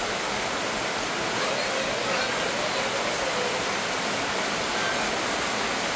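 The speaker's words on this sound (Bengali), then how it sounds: "কেমন বৃষ্টি নামছে দেখাই" Heavy rain pours down at a village home, a dense and constant hiss that stays steady throughout and sounds close. It carries on alone without voices.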